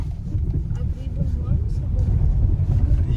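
A car drives along a forest road in the Crimean mountains near Mezhgorye with a steady low engine rumble and road noise from inside the vehicle, constant and fairly loud throughout.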